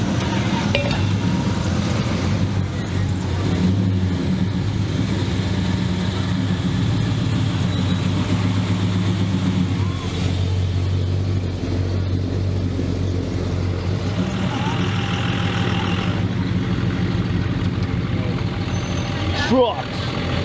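Heavy truck engines idle at a Mopar car show with a low, steady rumble throughout, with occasional clinks and a brief hiss near the end, while people talk nearby.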